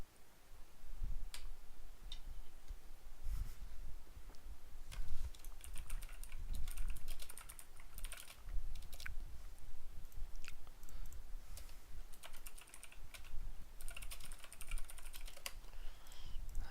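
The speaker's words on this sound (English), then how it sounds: "Why am I typing it wrong?" Continuous typing on a computer keyboard, with quick irregular clicks and taps in bursts over a low background rumble, close and moderately loud, with no talking.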